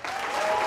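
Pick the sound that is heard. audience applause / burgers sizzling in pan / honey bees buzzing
audience applause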